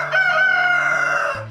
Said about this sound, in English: The sound of our rooster crowing worked its way into my brain.